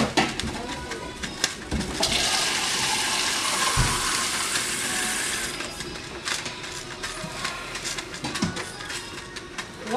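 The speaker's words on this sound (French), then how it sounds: "on met de l'eau" Water poured into a pot of oxtail broth: a steady, splashing rush of pouring that swells through the middle and continues under faint background noise, close by and fairly loud.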